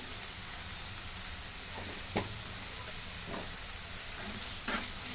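Spiced egg masala with turmeric and garam masala sautéing in a pan, giving a steady soft sizzle with a few brief spoon scrapes and stirs near the start and end. No talking.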